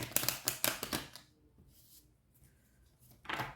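Tarot cards being shuffled by hand, a quick run of crisp riffling flutters at the start, then near silence before a final brief shuffle.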